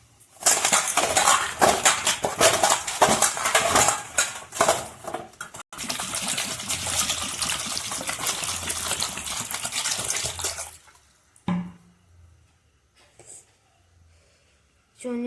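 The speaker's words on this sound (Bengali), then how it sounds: "এবার জলে ভালো করে ধুয়ে নিচ্ছি।" Indian gooseberries (amla) being washed in a bowl of water, with dense clattering, splashing and rubbing that runs steadily for about ten seconds, then stops, leaving a few faint knocks.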